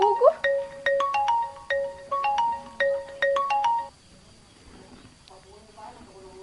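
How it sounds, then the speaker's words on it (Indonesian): A mobile phone ringtone for an incoming call plays a bright repeating electronic melody in short phrases for about four seconds, then stops, leaving quiet room tone. "Cik, dek noni mang Deden telepon."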